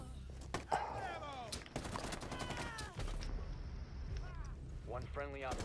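Video game gunfire, a burst of rapid sharp shots with mechanical clatter, under excited voices talking over it.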